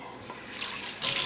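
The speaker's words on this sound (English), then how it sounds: "about to wash the grain. Number one cut of wheat grain." Water running over number one cut wheat grain being washed in a bowl at a sink, a close, steady splashing and trickle that swells louder near the end, with no voices.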